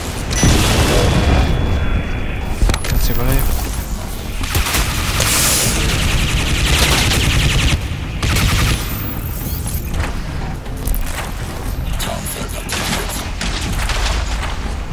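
Dense gunfire and heavy explosions from the shooter game Crysis 2 fill the scene, with bursts of rapid shots and booming blasts that are loud and near, with occasional speech faintly beneath the battle.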